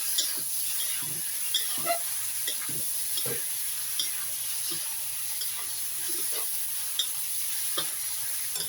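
Sesame oil goes into an eggplant stir-fry that hisses and sizzles in a hot pan, with scattered spatula scrapes and knocks close by over a steady frying hiss.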